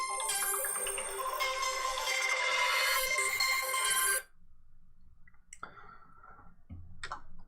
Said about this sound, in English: I've got a call coming in here that I need to mute.